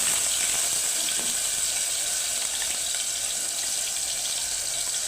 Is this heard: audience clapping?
no